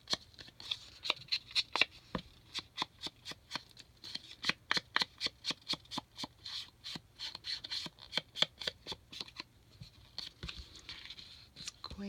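Scissors cutting paper along a tag edge make rapid, crisp snips in a steady rhythm, close and clear, continuing for about ten seconds with a brief pause near the end.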